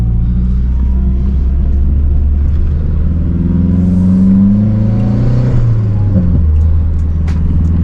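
A Stage 2 Mazdaspeed 3 with a turbocharged engine accelerating, heard from inside the car: a loud, deep engine drone that climbs steadily in pitch through the gears, with a brief dip as it shifts near the end.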